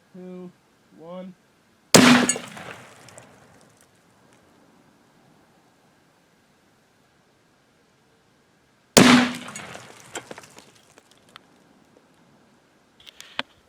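Two 5.56 NATO green tip rifle rounds fired at a brake rotor, each a sharp loud crack with a ringing metallic decay, spaced several seconds apart outdoors, with brief talk before the first shot.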